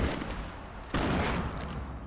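Video game shotgun fire rattles in a dense, loud burst, with a sharp fresh blast landing midway through the noisy barrage and no voices.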